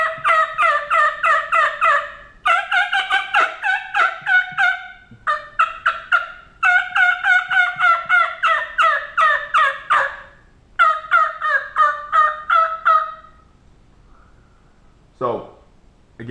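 A turkey call device imitates an excited hen to fire up a tom. It sends loud, rapid runs of raspy yelps and cutts in quick bursts with short pauses between them. A single sharp note closes the sequence.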